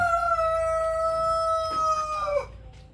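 A Brahma rooster gives one close, loud crow, a sustained call that rises and falls and then breaks off near the end, with no voices around it.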